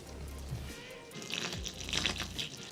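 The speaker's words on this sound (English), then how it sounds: "we're going to give them a bit of a water now" Water sprays and trickles onto plants inside a reptile enclosure, soft intermittent splashing and dripping, quiet and close, with a low hum beneath.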